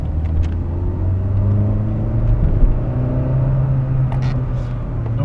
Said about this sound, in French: à bas régime, au point mort, le bruit n'est pas très sport